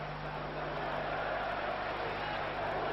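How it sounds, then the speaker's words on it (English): Crowd noise in an ice hockey arena at the 1989 world championship game between Canada and Sweden, a steady, dense roar of spectators filling the stadium throughout. "the noise and the atmosphere in this crowd here in this stadium are just amazing"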